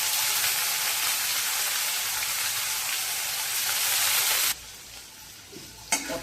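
Soaked moong dal and tender pumpkin leaves sauté in a pan with a loud, steady sizzle. The sizzle drops off abruptly to a quiet crackle, and a couple of stirring scrapes follow.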